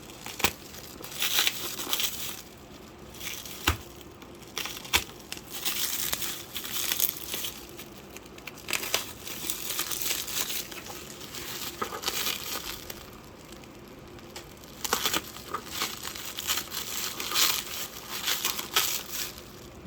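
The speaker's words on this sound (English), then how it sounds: "Not exactly the easiest packaging to open without cutting the box as well." Crinkly plastic packaging of Aula F2058 mechanical keyboard switches being opened, with continuous close crackling and crumpling plus occasional sharper snaps and rustles.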